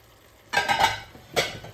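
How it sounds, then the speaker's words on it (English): A spoon works spices into shakshuka in a pan, giving two short bursts of close, scraping stirring with a faint sizzle between them. "Let's give this a good mix."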